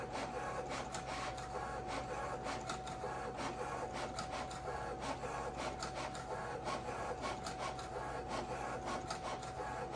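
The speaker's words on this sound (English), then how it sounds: "I'm going to let y'all hear and see the machine cut." A craft cutting machine slices metallic cardstock for cupcake toppers, a steady mechanical whir with a fixed tone under rapid repeated scraping strokes as the carriage moves back and forth.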